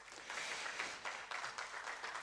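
An audience at a French tech meetup talk on DevSecOps and Trivy claps in a sustained, even burst of many hands, heard from within the room without speech.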